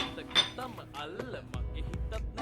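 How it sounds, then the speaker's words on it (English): Flour and salt are stirred together in a bowl for homemade baguette dough, giving light, scattered clinks and scrapes of a utensil against the bowl, with a voice talking over it. "let me add in the flour into the bowl together with the salt and give this a good mix"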